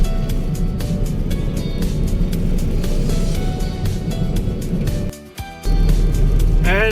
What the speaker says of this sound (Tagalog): Traffic guys, traffic. Ang daming sasakyan guys.